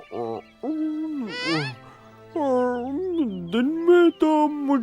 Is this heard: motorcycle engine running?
no